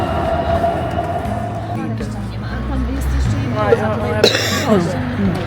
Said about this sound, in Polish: I oto tramwaj śmiga w jedną w drugą stronę.